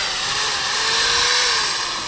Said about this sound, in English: Go pick up the drill and rev it up a couple times.